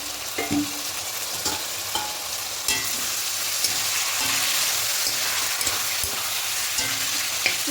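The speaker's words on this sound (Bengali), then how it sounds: "এভাবে ঢাকা দিয়ে দিয়ে চিকেনটাকে একটু কষে নেব" Chicken sizzles steadily as it is sautéed in a pan, with occasional scrapes and knocks of a spoon stirring it, a constant close frying hiss with no voices.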